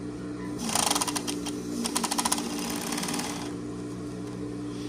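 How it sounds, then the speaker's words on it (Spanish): Overlock sewing machine stitching a denim jeans fly piece, a rapid mechanical whirring stitch in two close bursts, the second with a fast pulsing rhythm, over a steady low motor hum and no talking. "Y esta hojalera te mostraré cómo la vamos a coser en la over"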